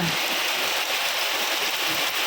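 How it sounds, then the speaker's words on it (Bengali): Steady heavy rain pours down nearby as a dense, continuous hiss of drops striking surfaces, even and unbroken from start to finish. "এখন দেখেন কি পরিমাণ বৃষ্টি হইতেছে"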